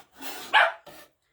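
A dog barks a few times up close, a quick rough burst followed by a shorter bark, then quiet.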